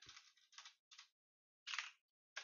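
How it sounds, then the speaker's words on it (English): Short bursts of computer keyboard typing while coding in R: a few quick clusters of key clicks separated by brief silences, close and fairly quiet. "I don't know why I'm typing it in the console"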